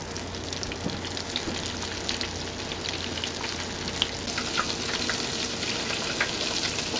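Okra dropped into hot frying grease at 375 degrees sizzles and crackles in a steady dense hiss, close and continuous, with scattered pops throughout.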